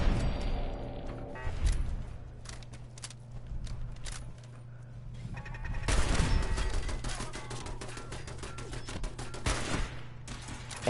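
Defense turrets in Fallout 4 open fire in a sustained burst of rapid shots, several loud, dense volleys with booming impacts layered over a steady low hum, with no talking.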